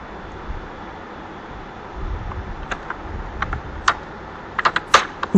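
Python code being typed on a computer keyboard in a computer class, faint at first, then scattered, sharp keystroke clicks picking up toward the end over a quiet room hum.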